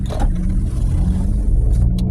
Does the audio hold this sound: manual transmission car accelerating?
yes